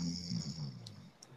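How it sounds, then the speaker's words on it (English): Snoring from someone in the background of a casual conversation, low rumbling breaths at moderate loudness with a couple of faint high clicks, no talk over it. "And there's the snores."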